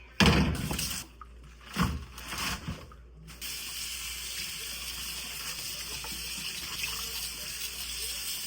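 Water running into a kitchen sink that is not draining, a broad steady rush after a few brief clattering bursts at the start, close by with no speech.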